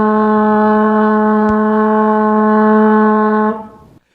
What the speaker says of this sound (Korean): 맞습니다. 나팔 소리예요.